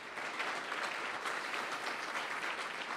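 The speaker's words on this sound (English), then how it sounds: "if you would give Edie a big round of applause" Sustained audience applause at a dinner event honoring a woman named Edie, dense steady clapping from a full room throughout, with no speech over it.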